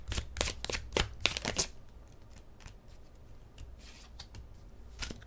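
Tarot cards being shuffled by hand, a burst of quick crisp riffling snaps up close, followed by quieter scattered card flicks and slides as a card is drawn.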